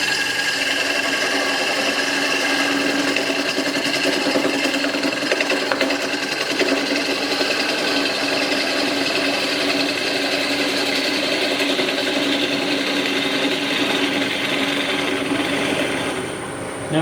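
Wood being face turned on a lathe with a bowl gouge gives a steady, close, whirring and hissing cut that runs unbroken for the whole stretch, with no talking.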